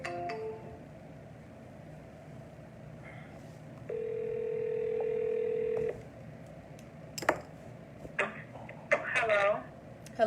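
Outgoing telephone call ringing on the line: a single steady ring tone lasting about two seconds mid-clip, followed by faint clicks and brief handset noises.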